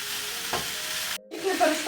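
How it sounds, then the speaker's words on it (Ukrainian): Cabbage cooks in a pan over a low gas flame with a soft, steady sizzle, briefly cut off by a short silence before bubbling resumes. "Ставимо малесенький газ і чекаємо, щоб капуста втушкувалася"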